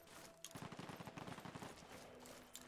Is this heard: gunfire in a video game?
yes